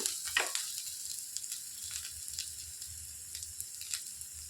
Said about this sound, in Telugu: కొద్దిగా కరివేపాకు వేసుకొని వేయించుకోవాలి